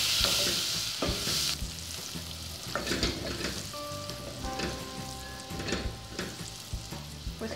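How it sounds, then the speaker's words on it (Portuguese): Garlic, about five crushed cloves, browns in hot oil in a home kitchen pan, giving a steady close sizzle with crackling pops and the occasional scrape of stirring throughout. "Vou dar uma douradinha no alho."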